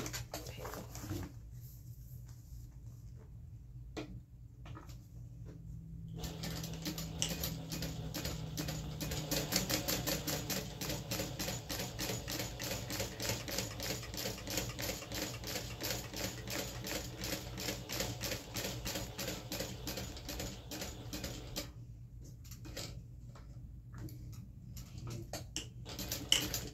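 A sewing machine stitches down the side of a crossbody bag in fast, even rapid-fire clatter, pausing briefly near the start and again near the end, quiet and close with no voices.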